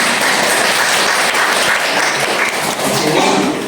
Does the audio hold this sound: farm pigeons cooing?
no